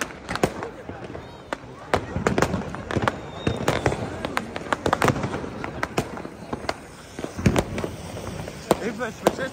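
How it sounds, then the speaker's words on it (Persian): Fireworks at a New Year 2024 celebration, a dense run of sharp crackling bursts and pops, some close and loud, others further off, with people talking throughout. "این فشفشه چند زمانه"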